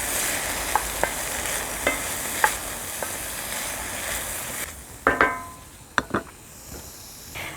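Eggplant goes into a hot pan for a homemade vegetable stew. A steady sizzle is broken by scattered utensil clicks and taps, and the sizzle dims partway through as the pieces are stirred. No voices.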